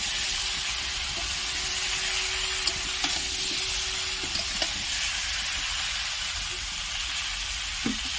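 Mixed vegetable curry with fried potatoes stirred in a pan, a continuous loud sizzle and hiss with occasional scraping clicks of the spoon, no voices.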